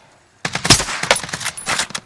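A rapid burst of automatic AK rifle fire in Call of Duty: Warzone, with sharp, closely spaced shots running for under two seconds after a brief quiet start.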